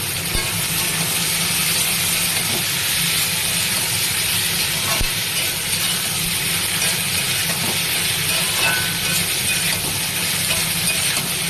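Vegetables frying lightly on ginger-garlic paste in a pan, giving a dense, steady hiss and sizzle that runs loud and unbroken throughout, with faint occasional clicks beneath.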